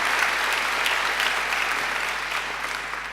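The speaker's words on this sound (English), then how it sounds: "I think she deserves another great round of applause." A crowd at a graduation ceremony applauds a singer, a steady, full wash of clapping from a large audience that stays even for three seconds and eases slightly at the end.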